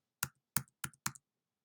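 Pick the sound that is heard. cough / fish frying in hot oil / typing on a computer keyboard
typing on a computer keyboard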